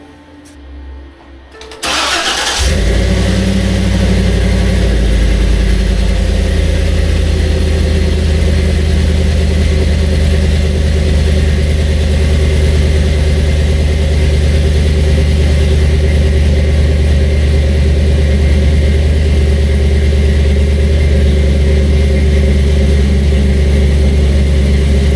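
A Jeep engine cranks briefly, then fires and settles into a loud, steady idle that runs close and unbroken for over twenty seconds.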